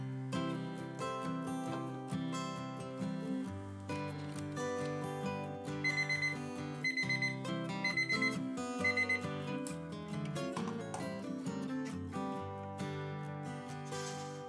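A kitchen timer goes off after dough has proofed for English muffins, sounding a tonal electronic alarm with a run of repeated beeps partway through, fairly faint and with no voices.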